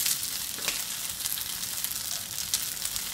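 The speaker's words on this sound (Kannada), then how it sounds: "ಕಾವಲಿಕ್ಕಾದ್ಮೇಲೆ ಅದ್ರ ಮೇಲೆ ಈ ರೊಟ್ಟಿನ ಹಾಕಿ ಬೇಯಿಸಿ," Cucumber rice rotti cooks on a hot griddle, giving a steady, even hiss of sizzling with a few faint crackles, close and moderately quiet.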